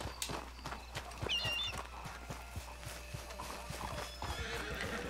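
Horse in Red Dead Redemption 2 trotting closer with clip-clopping hooves and a clear whinny, footfalls repeating at a steady pace.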